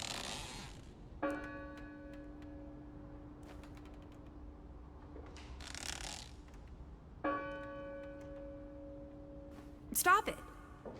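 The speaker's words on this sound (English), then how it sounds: "That bell still bothers me." Church bell tolling in the horror game Draugen, two slow resonant strikes with long ringing decays, quiet and somewhat distant, with faint breathy noise bursts and a brief metallic clatter between them.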